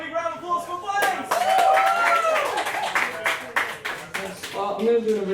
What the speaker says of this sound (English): Ladies and gentlemen, a big round of applause for Blaze!